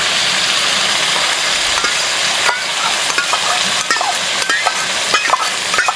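Chicken jalfrezi sizzles steadily in a pan while ketchup is stirred through, with scattered clicks and scrapes of the spoon rising over a constant frying hiss; close and moderately loud, with no voices.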